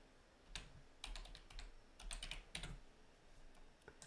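Quiet keystrokes on a computer keyboard while searching in Fortnite, arriving in short bursts of rapid clicking separated by brief pauses, close and faint.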